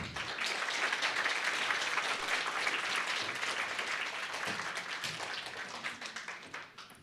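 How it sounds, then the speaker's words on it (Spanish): A church congregation at a Sunday service gives a hearty round of applause for a singing group, a thick, continuous clatter of many hands that holds steady and then fades toward the end. "los despedimos con un fuerte aplauso"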